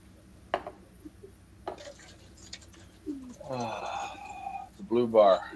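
Racing pigeons coo in soft bursts at a race finish line, mixed with short knocks and clatter, the cooing growing louder toward the end, with people speaking quietly nearby.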